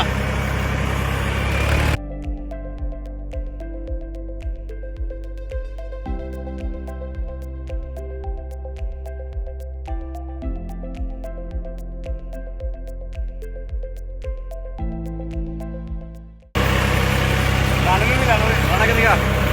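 Steady diesel tractor engine idling with a regular low thumping pulse for about fourteen seconds, loud and close, bracketed by louder broadband noise at the start and end.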